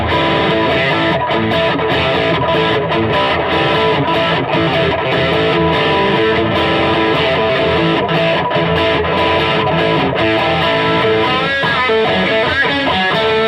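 An electric guitar with a boost pedal switched on plays a loud, heavily distorted tone in thick sustained chords and chugging rhythmic riffs, close and dense throughout.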